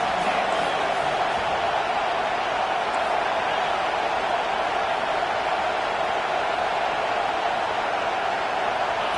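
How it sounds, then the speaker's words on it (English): Stadium crowd in a college football video game, matched against South Carolina, roaring during a third-down defensive stand, a loud, steady wash of cheering noise that holds unbroken throughout with no clear voices on top. "Decibels rising as the crowd gets behind this defense on 3rd down."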